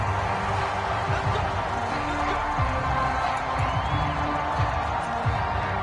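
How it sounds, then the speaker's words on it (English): Football stadium crowd at a Buffalo Bills game, a dense continuous roar of shouting and cheering from many people while a replay is shown, steady and loud throughout with scattered whoops rising out of the mass of voices. "he's going to be plenty of shouts from this crowd as they watch the replay"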